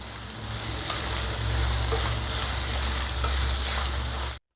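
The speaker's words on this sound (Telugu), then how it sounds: "ఇప్పుడు ఈ ఉల్లిపాయల్ని మరీ బ్రౌన్ కలర్ వచ్చేంత వరకు కాకుండా లేత బంగారు వర్ణం వచ్చేంత వరకు ఫ్రై చేసుకుందాం" Sliced onions fry in a hot pan for an egg fry dish, a steady close sizzle and crackle that runs evenly throughout with no voices, then cuts off abruptly.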